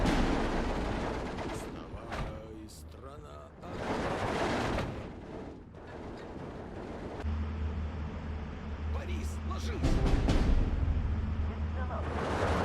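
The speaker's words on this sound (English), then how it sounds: "We're going to have to mortar that again" Mortar fire in the WW2 real-time strategy game Steel Division 2: several heavy booming blasts spaced a few seconds apart, loud over a rumbling battlefield background with other distant gunfire.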